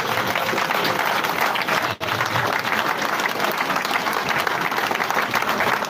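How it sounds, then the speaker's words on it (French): An audience stands and applauds an artist at a memorial gathering, a dense, sustained wash of clapping from a large crowd that continues loudly throughout. "je demande à l'assistance que nous puissions nous tenir debout et que nous puissions acclamer fortement l'artiste"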